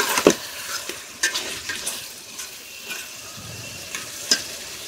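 Local shing fish frying with spices in a pan, a continuous close sizzle broken by repeated scraping and clinks of a spatula stirring, without talk.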